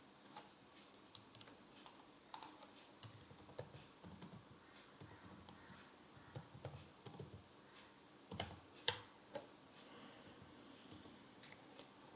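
Keys on a computer keyboard tap softly in quick, uneven bursts as a command is typed at a Windows 11 command prompt, the faint clicking running on alone at close range against a quiet background.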